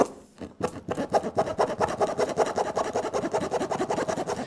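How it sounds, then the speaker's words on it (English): Tire plug reamer rasping back and forth inside a hole in a tire, a fast run of rhythmic scraping strokes, close and fairly loud, after a brief quiet start. "So once the reamer's in, just go back and forth."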